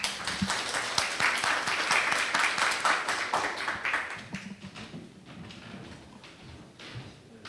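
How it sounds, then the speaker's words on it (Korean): An audience at a Pangyo startup investment exchange event claps to welcome a speaker, the applause loud for about four seconds before thinning into scattered claps, with some light knocking and shuffling. "박수로 맞아주시면 감사하겠습니다"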